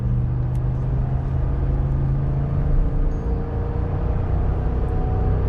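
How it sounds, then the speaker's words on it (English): A 2019 Ram 1500 pickup truck accelerating on a highway while towing, heard as a steady, loud low engine drone and road rumble from inside the cab, continuous and without talk. "Okay, let's give her a little acceleration."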